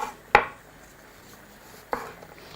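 Knife chopping through potatoes and eggs on a board for a potato and egg salad, two sharp isolated knocks about one and a half seconds apart against a quiet background.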